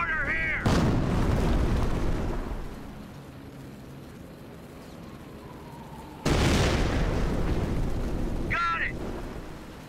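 Mortar explosions in Company of Heroes on a D-Day beach landing, two heavy booms several seconds apart with rumbling tails, under distant battle noise, faint whistles and voices.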